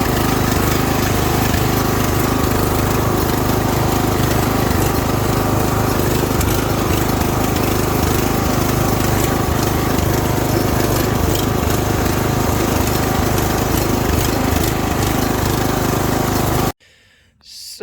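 A homemade mud mower powered by a weedeater engine runs steadily and loudly close by, a buzzing drone that holds for about seventeen seconds before cutting off abruptly near the end.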